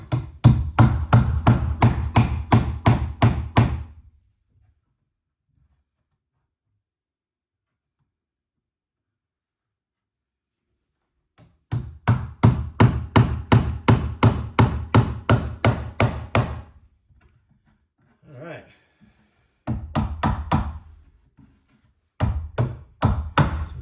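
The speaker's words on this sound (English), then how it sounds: "Sometimes as you're nailing this box will get a little square" Hammer nailing an electrical box onto a wall stud, rapid series of sharp close blows in several runs separated by pauses, with short bits of quieter handling between.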